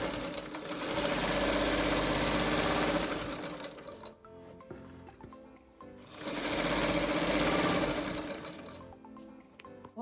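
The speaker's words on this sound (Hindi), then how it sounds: "और उसके बाद हम इसमें इस तरह से सिलाई लगा लेंगे सीधी" A sewing machine runs straight stitching on a baby girl's skirt in two loud, rapid runs of about three seconds each, separated by a quieter pause.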